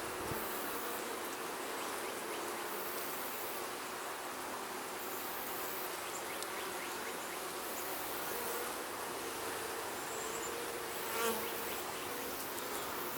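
Dense, steady buzzing of many honey bees close by on a hive frame, continuous throughout without pause.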